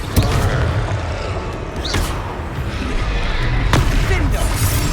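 A fiery Confringo spell goes off during combat in the game Hogwarts Legacy, with short blasts and thuds over a dense, rumbling battle background of effects and game audio.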